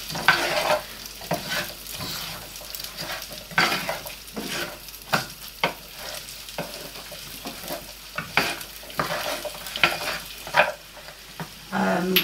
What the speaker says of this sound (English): And stir them in.